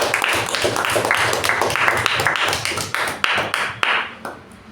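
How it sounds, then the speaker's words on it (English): A Toastmasters meeting audience gives a round of applause, a dense steady wash of clapping that fades out toward the end. "A good round of applause to Toastmaster Madhusudan"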